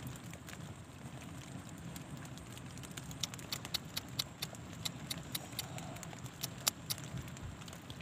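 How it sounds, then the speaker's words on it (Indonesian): Rain beginning to fall outdoors at an eel-fishing spot, a steady soft patter with scattered sharper drop taps over a low rushing background, continuous and fairly even throughout. "Waduh, hujannya turun Mas."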